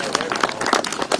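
A large crowd at a professional disc golf tournament applauds, scattered claps in quick irregular bursts, moderately close, with a commentator's voice running over them.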